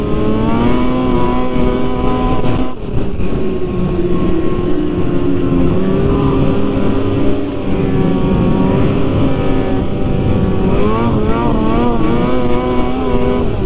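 A 2002 Ski-Doo MXZ 800 snowmobile engine runs loudly and steadily on late-season snow trails, with a continuous roar and engine pitch that rises and falls as it revs, close by throughout with no talking.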